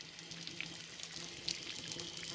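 Warm water running steadily from an outdoor tap at a mountain campsite in the Outeniqua Mountains, a soft continuous splashing hiss with a couple of faint clicks, no talking.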